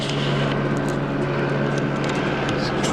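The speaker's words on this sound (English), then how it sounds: "There's a chopper flying by right now" A steady, droning helicopter engine rumble with a constant low hum, passing at a distance at night, continuous and unbroken.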